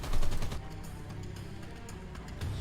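Gunfire from a dinosaur-hunting shooter video game, a dense burst of rapid shots that loudens early on and then continues more steadily, with a louder swell near the end.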